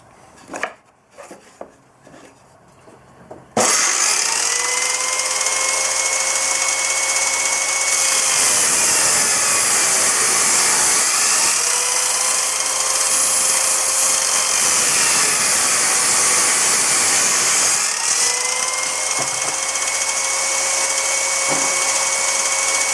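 A table saw rips a 1x1 wood strip lengthwise against a fence set about 3/8 inch from the blade: a loud, steady motor whine starts abruptly and holds for most of the clip, with brief dips as the blade bites into the wood.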